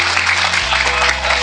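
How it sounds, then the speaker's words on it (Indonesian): An audience claps for guest speakers at a launch event for a Muslimin Club meat-for-students program. The applause is loud and dense and fills the whole short moment, with a steady low hum underneath. "Tepuk tangan dong buat kakak-kakak kita di sini ya"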